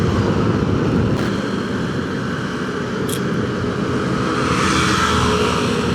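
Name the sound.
Yamaha Aerox 155 motorcycle accelerating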